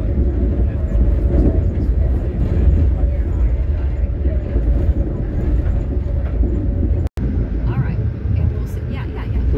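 A Long Island Rail Road train rolls steadily toward New York, a loud continuous rumble and rattle inside the carriage with a brief dropout partway through.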